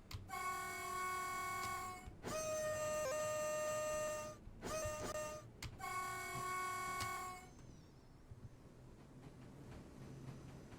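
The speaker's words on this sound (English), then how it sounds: "Yeah, there's the horn and everything." An EN57 electric multiple unit train in Simrail sounds its horn in three long, loud, steady blasts separated by short gaps, after which it fades to a quiet low rumble.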